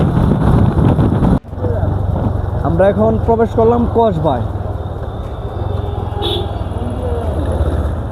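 Motorbike riding along a road while crossing Lagra bazaar toward Kasba, with steady engine and wind rumble throughout and someone talking over it.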